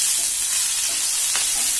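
Green chillies and onion fry on high flame in a pan, giving a loud, dense, steady sizzle with faint stirring.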